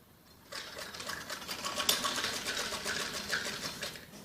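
A sewing machine runs a straight seam on a piece of a jacket frock, starting after a brief silence and then humming steadily and close until the end.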